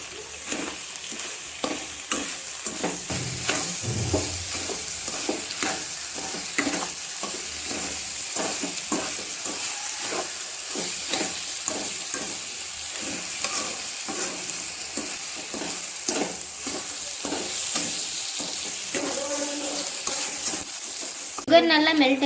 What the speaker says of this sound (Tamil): இப்போ இதில் சீனி சேர்த்து நல்லா மிக்ஸ் பண்ணிக்கணும்.